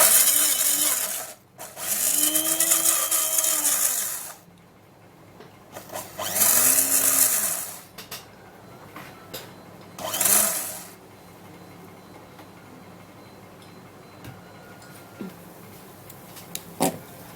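A blender blending aloe vera whirs in several loud bursts of a few seconds each, separated by pauses filled with quiet handling clatter.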